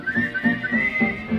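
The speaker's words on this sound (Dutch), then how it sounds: "Fluit ik dan met hun mee?" A person whistles a short melody alone, clear and close, in a few bright phrases with brief breaks between notes.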